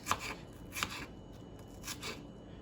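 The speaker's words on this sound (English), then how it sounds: "So we are going to get this all chopped" A knife chops onion on a cutting board for vegan tempeh hash, giving a few soft, scattered strokes, faint and close.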